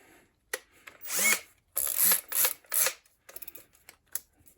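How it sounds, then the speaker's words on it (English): A cordless power drill drills holes during a diesel heater installation, several short whirring bursts of varying length with pauses between, close up, followed by softer clicks and handling noises. "Drill, set to drill"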